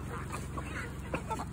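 Ducks quacking in a low, steady chorus at an evening pen, with a few sharper calls standing out briefly over the continuous background babble.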